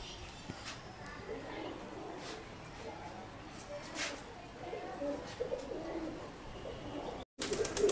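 Pigeons of a cross between Golden and Rampuri breeds coo softly at a hobbyist's loft, their calls faint beneath background chatter and a steady ambient hum.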